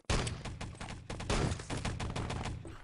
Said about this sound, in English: The Luger headshot comes in.